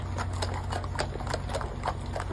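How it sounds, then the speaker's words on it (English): Hooves of several horses clip-clop in a steady, overlapping rhythm at a vote tabulation center protest, heard in news footage with a low background hum and no speech. "Also horse. Multiple horses."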